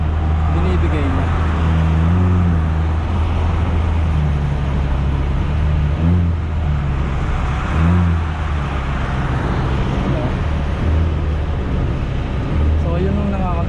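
A Toyota Vios engine fitted with a DataTec throttle controller drones loudly and steadily, its pitch rising and falling slightly as the throttle is worked, with someone talking over it.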